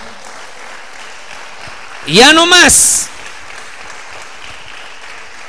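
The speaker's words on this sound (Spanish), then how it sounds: "Dale otro aplauso al Señor" Church congregation applauding during a sermon, a steady, soft wash of clapping running underneath as one loud voice briefly shouts over it midway.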